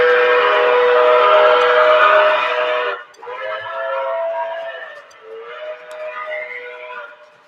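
Electronic whistle effects from a toy steam engine train set standing still, a long steady whistle blast followed by two shorter, wavering whistle tones, loud and close with no talking.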